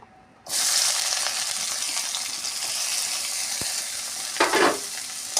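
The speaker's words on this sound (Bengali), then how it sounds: "এবারে কিছু পেঁয়াজ কুচিয়ে রেখেছিলাম পেঁয়াজটাও আমি ভেজে নেব" Chopped onions hit hot oil with a sudden loud hiss that settles into a dense, steady sizzle, with a brief stirring scrape and a splashy burst near the end.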